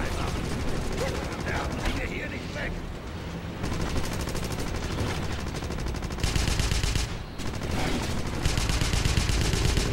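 Sustained automatic gunfire in the video game Wolfenstein, dense rattling bursts running continuously at close range with brief dips, with voices talking over the shooting.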